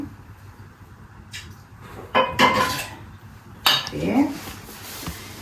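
A utensil scrapes and clinks against a bowl as aloe vera is mixed, in a few short bursts of clatter separated by quiet pauses, heard close.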